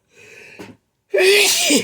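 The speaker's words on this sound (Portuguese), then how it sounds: "Vou espirrar de novo." A close, loud sneeze bursts out after a short breathy intake, the sharp blast followed by a brief rasping tail.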